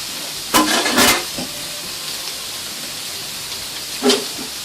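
Food cooking in a hot pan: a couple of loud hissing sizzle bursts rise close by early on and again near the end, over a steady low background hiss.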